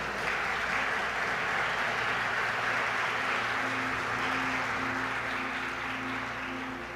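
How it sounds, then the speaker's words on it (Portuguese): A church congregation gives steady, continuous applause in praise of the Lord during a sermon, a broad wash of many hands clapping evenly for several seconds over a low hum, with no talking. "dar uma salva de palmas ao Senhor."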